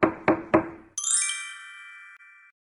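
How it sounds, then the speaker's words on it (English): A toy dinosaur knocks three times on a floor, sharp close taps in a quick row, followed by a bright sustained chime that rings out and slowly fades. "Emma knocked with a dinosaur."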